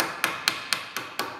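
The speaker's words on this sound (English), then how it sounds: "I'm just upsetting this this end first, and I'm using the peen end of a ball peen here" The peen end of a ball peen hammer strikes weld metal on a steel end held in a vise, five sharp, evenly spaced metallic blows in quick succession, close by.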